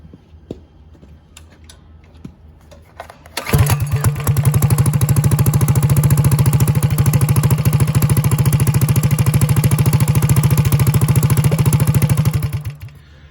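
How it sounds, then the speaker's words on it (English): A Coleman CT100U minibike with a custom exhaust starts up after a quiet stretch and runs at a steady, loud, rapid putter for about nine seconds before cutting off. "It definitely gives the bike a little more power because it has way better flow, and it definitely has a much improved sound."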